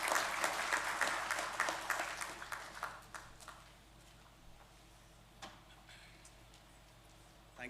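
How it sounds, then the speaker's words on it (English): Applause at an engineering school induction ceremony welcoming a speaker, a burst of hall clapping that is dense at first, then thins out and fades to scattered claps and near quiet. "Please welcome, sir, with a warm round of applause."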